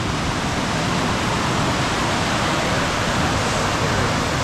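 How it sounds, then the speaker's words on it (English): River water rushes over a small waterfall, a dense, steady roar of broadband noise heard close and loud throughout, with no voices. "it goes like a little waterfall"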